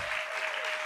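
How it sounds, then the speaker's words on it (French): Brief burst of steady applause from a conference audience at a French colloquium, dense even clapping with a faint steady tone running underneath, short and continuous. "je pense qu'on peut l'applaudir"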